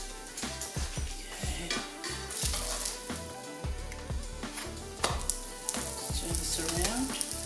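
Savoury flatbread cooks in a pan on medium heat, giving a soft, close sizzle beneath irregular thumps, taps and utensil knocks that come and go throughout.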